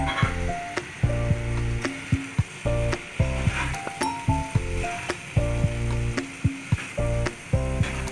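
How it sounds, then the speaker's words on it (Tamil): A spatula scrapes and clacks rhythmically against a pan while mushroom fried noodles are stirred, loud repeated strokes roughly twice a second over a faint sizzle. "நல்லா ஈவனாக அதை கிளறி விடுங்க."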